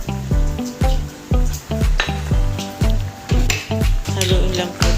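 Squid is stirred in a pot of boiling seafood, with rhythmic sloshing and scraping strokes repeating about twice a second, loud and close, with no voices.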